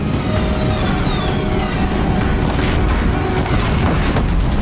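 Deathbringers open fire near a bridge in a video game, producing a loud, dense barrage of heavy booms that rumbles on continuously without a pause.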